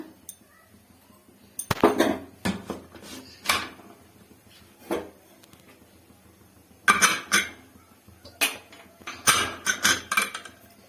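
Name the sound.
closing the pressure cooker lid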